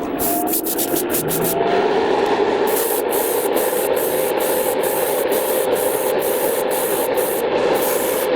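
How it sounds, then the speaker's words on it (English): Red Model Master paint hisses from a spray nozzle onto a taped-off scale model car dealership building, a loud continuous airy rush broken by quick stutters at the start and brief gaps later. "So now we're just going to spray this."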